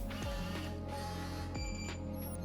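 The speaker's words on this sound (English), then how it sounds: "You'll hear 2 beeps and the lock button will flash green as that deadbolt retracts." A Kwikset Powerbolt 240 electronic deadbolt, a motorized whir and clunk of the bolt moving, followed by short, sharp electronic tones, close and clear over a constant background hum.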